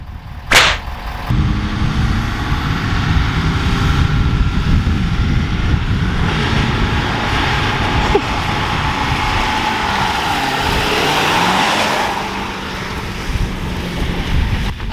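A 2017 Ford 6.7 Powerstroke diesel pickup launches hard and accelerates, a loud, steady engine roar building over about ten seconds after a brief sharp burst, then easing off near the end.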